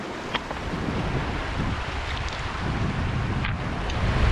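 A wide Scottish Highlands river, Glen Orchy, flowing on a warm day, giving a steady broadband rush of water with a few faint splashes and light wind noise, no talk.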